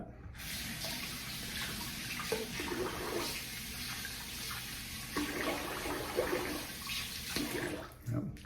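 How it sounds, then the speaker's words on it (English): Water running and splashing as a face is rinsed after shaving, a steady faucet-like stream broken by irregular splashes and drips, fairly quiet and close. "I'm gonna rinse the face"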